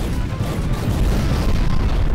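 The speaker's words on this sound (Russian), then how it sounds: "они когда разлетаются, начинают крутиться в воздухе, тогда они точно взрываются все" Dull booming explosions rumble continuously in Garry's Mod, loud and bassy, merging into a steady roar.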